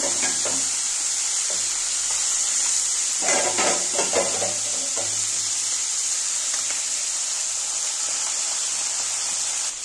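Small fish, part of a potato and eggplant mixed fish dish, frying in a pan with a steady broadband sizzle and hiss, plus a few clinks and stirs partway through.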